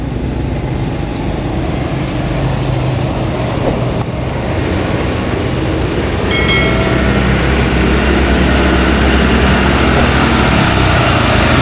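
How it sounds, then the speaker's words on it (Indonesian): A high-speed train at Padalarang station, heard as a steady loud rumble of rolling stock and passing traffic that holds throughout, with a brief brighter squeal partway through. "Saat ini saya sedang memantau pergerakan kereta cepat di area stasiun kereta cepat Padalarang ini"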